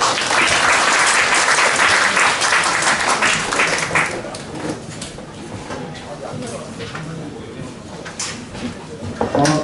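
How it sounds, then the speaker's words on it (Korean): Loud applause fills a room at a tech meetup as the audience welcomes the next presenter, dense at first, then thinning after about four seconds into scattered claps and room noise. "그러면 다음 번 발표자분 박수로 맞아주십시오."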